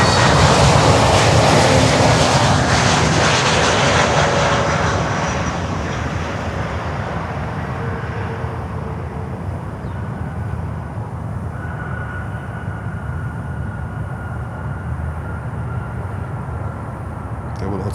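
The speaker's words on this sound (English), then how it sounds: "American Airlines here on runway 9 with a NEO" An American Airlines Airbus A321neo on runway 9 at Miami airport, a loud jet engine roar that gradually fades to a steadier, softer rumble with a faint whine as the aircraft moves away.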